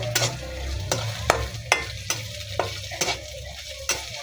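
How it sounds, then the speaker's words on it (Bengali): Chopped potatoes and five or six green chillies frying in a pan with garlic, a steady close sizzle broken by repeated sharp scrapes and knocks of a spatula stirring them. "দিয়ে দিচ্ছি আলু কুচিগুলো এখন একটু ভেজে নেব"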